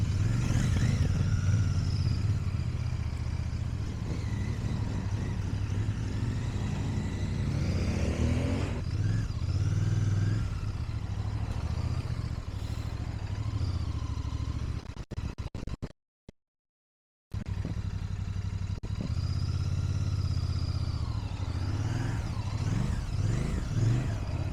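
Royal Enfield Bear 650 motorcycle ridden nearby, its mid-pitched engine droning and revving steadily throughout, with a brief dropout near the end before the engine note returns.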